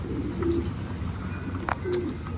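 An ailing Arab Posta pigeon, caught among wild pigeons, gives a few soft low coos, close and faint, with no talking.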